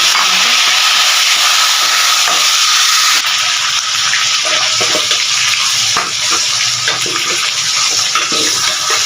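Golden-browned onion and garlic sizzle and hiss loudly in a hot pan, a dense continuous frying noise with small bursts and crackles as chopped tomatoes and a small green chilli go in.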